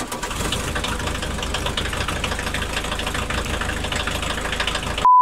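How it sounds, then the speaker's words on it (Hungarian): An Audi S2's inline five-cylinder engine idling steadily, a close, even, slightly lumpy rumble that holds constant for about five seconds before cutting off. "Ez soha nem fog kimenni a divatból a soros 5-hengeres motorhang"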